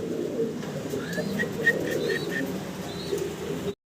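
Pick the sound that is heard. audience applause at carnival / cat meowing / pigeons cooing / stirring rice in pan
pigeons cooing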